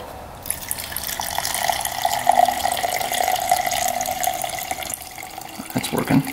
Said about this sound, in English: Oh, it looks like gas is squirting out of here already.